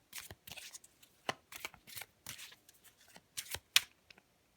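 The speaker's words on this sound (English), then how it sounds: "just pull one card for myself, which I'll have a look at later" Tarot cards being shuffled and drawn from a new deck, a quick series of crisp papery riffles and slaps, close and isolated with no talking.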